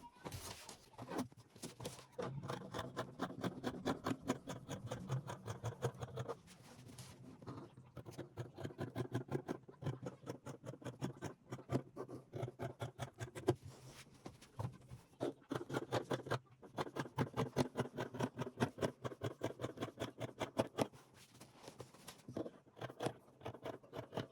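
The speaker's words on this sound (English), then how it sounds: "So I'll just go ahead and cut this out now." Scissors cutting out skirt lining fabric for a pencil skirt, a long steady run of crisp rhythmic snips close up, with no talking.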